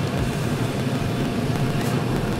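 A 2011 Hyundai Grandeur engine turns over on the key and settles into a steady, fairly loud low idle rumble with no pauses.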